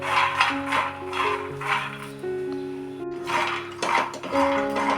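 Peanuts dry-roasted in a metal pan, repeated scraping and rattling clinks of the utensil against the pan, close and fairly loud, with sustained tonal ringing between strokes.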